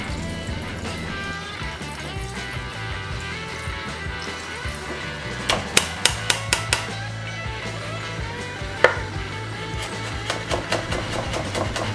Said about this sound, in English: Chop the garlic and the chili.